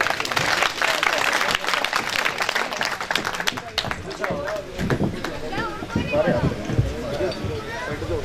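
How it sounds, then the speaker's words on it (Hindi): An audience seated in a pavilion at a Panjera event claps in a dense burst of applause that thins and fades, with voices and crowd chatter mixed in. "पंडाल में बैठे मेहमानों से मुल्तमिस हूं कि तालियां बजाएं।"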